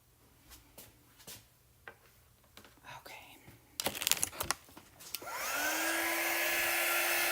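A dryer blows over chalk paste ink on a shirt, starting with a rising whine, then running as a steady rushing hiss. Before it starts there are scattered handling clicks and soft, quiet talk.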